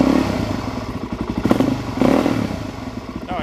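Engine of a 2009 Suzuki DRZ-400SM motorcycle just after starting, with the throttle cracked: a loud, close single-cylinder idle with a rhythmic chugging pulse and a couple of brief swells in revs.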